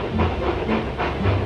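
Steam locomotives puffing into a yard in a Trainz simulator game: rhythmic hissing chuffs about every half second, steady and moderately loud, with no voices.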